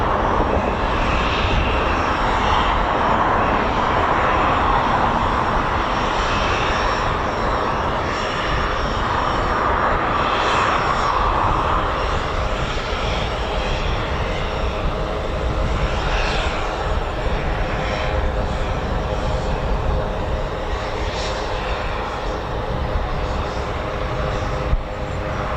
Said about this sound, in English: Ready for takeoff as well. Another Prefect going out.